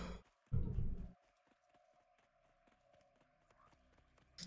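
Horse mount's hooves clip-clopping in World of Warcraft, a steady run of sharp, evenly spaced hoof taps at moderate distance, with a brief louder burst near the start and soft game ambience.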